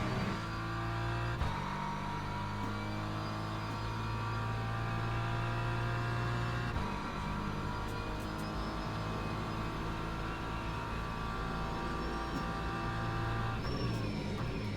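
BMW M4 GT3 race car engine in a Monza racing video game, a sustained loud engine drone with shifting pitch as it accelerates and brakes, steady and continuous without talk.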